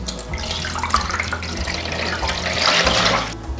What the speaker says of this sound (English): now it's a case of pouring the water in